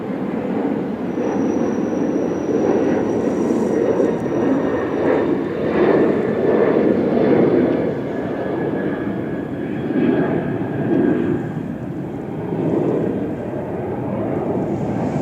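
A small airplane drones overhead, a steady continuous engine hum lasting throughout with gentle swells in loudness, heard outdoors at a moderate distance.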